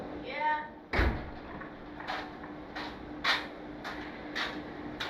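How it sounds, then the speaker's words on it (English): Shop door being opened, a single solid thump and rattle followed by a series of softer knocks and latch clicks, with a person's voice heard faintly in the room. "Can you open the door, please?"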